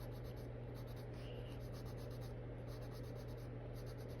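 Soft, steady scratching of a pencil across paper, continuous and close, over a low constant hum.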